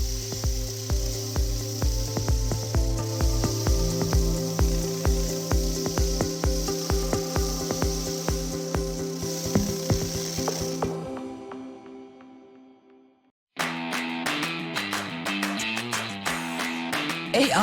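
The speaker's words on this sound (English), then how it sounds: "move the laser closer and closer to the substrate until you clearly see and hear the laser focusing on the substrate" A pulsed fiber laser cleans rust from a metal substrate with a fast, steady run of crackling ticks over a droning electronic hum. The crackle cuts out briefly, then resumes.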